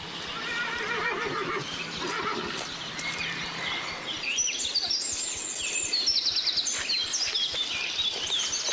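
A horse neighs in a long, shaky whinny, followed by high chirping birds; fairly close, with no talking.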